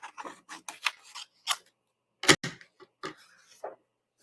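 Scissors snipping a small piece of brush material, a series of crisp, close cuts and rustles spaced irregularly, with one sharper louder snip near the middle and quiet gaps between.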